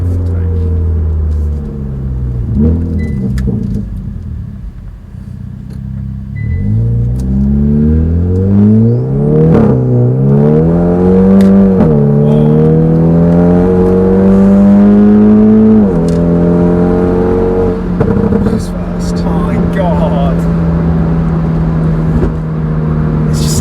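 A Hyundai i30N facelift with DCT gearbox and an RPM Performance full exhaust revs repeatedly, its loud, close engine note climbing and falling in pitch through several throttle sweeps.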